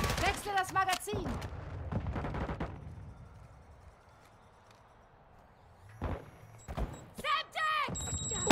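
Gunfire in a Call of Duty multiplayer match: a few sharp, broadband bursts crack out near the end, between stretches of in-game voices and a quiet lull.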